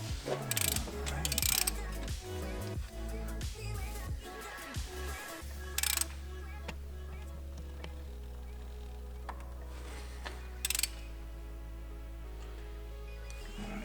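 Ratchet clicking while torquing bolts on a Ford Coyote V8 engine during a teardown, with quick bursts of ratcheting early on followed by quieter mechanical handling and a couple of sharp clanks.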